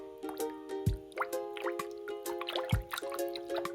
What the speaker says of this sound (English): How about you dip your paintbrush into clean water to make it wet a little?